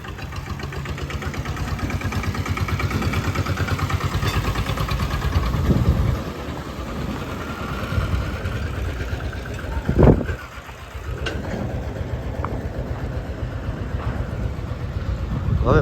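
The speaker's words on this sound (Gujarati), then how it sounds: "બાઘાજી કરતો જાય છે છકડો" A chhakda three-wheeler engine runs steadily and fairly loudly, a continuous low rumble with a couple of brief bumps and knocks partway through and no talking.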